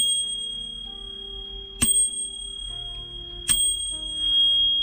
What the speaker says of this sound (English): So here is a new bell. It's actually quite stylish. It's got a decent aluminium mount, CNC aluminium, and it is matte black